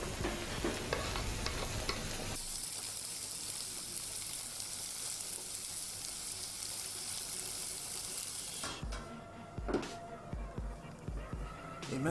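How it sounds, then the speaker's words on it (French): Tomatoes tipped into a hot frying pan and stirred, with a loud steady sizzle and scraping of the spoon running throughout, then the frying dies down to softer stirring and clatter near the end. "Maintenant nous allons rajouter nos tomates."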